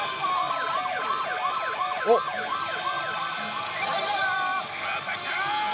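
A pachislot machine plays a loud, fast wailing police-style siren that warbles up and down repeatedly, with electronic machine sounds behind it and a brief voice over the top.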